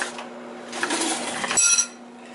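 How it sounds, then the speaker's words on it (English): A knife scrapes and clinks against a plate while cutting cooked rare sirloin steak, a short burst of close metallic chinks ending in a bright ring, with no talking. "let's cut this steak up"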